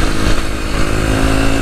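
A Derbi 125cc motorcycle engine runs loud and close, a raspy buzzing drone that holds steady with slight rises in pitch.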